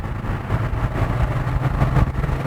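A new KGM Actyon SUV with its exhaust sound option accelerates, giving a low engine and exhaust rumble that swells gently and is heard faintly through a slightly lowered window over wind noise.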